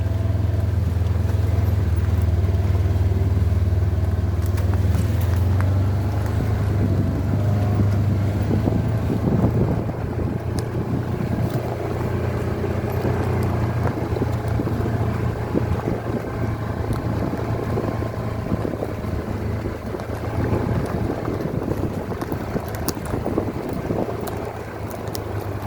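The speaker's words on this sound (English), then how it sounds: "There is my Donley River." The Donley River, fully flowing, gives a steady, unbroken rush of water that fills the whole stretch at constant loudness, mixed with low wind rumble on the microphone.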